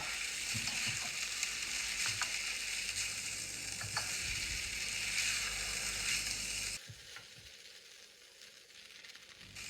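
Boiled rice stir-fried and mixed in a hot pan for chicken fried rice: a continuous sizzle with scraping stirs and clinks that drops to a quieter crackle partway through.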